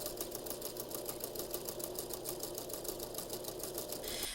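A sewing machine stitches a scalloped curved edge around the facing of a pinafore dress, giving a steady, rapid, evenly pulsing whir that runs close and unbroken with no talking.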